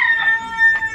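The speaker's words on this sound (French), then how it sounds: "Il y avait des coqs et des ponts." A rooster crows loud and close on a farm, one drawn-out call heard alone with no talk over it.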